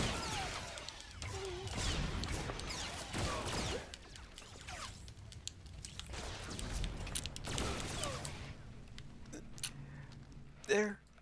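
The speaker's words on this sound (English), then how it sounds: "Sweeping gunfire! Everybody dies!" Bursts of rapid sweeping gunfire and crashing impacts from the game Star Wars: The Old Republic, loud and chaotic, with voices mixed in and a sharp blast near the end.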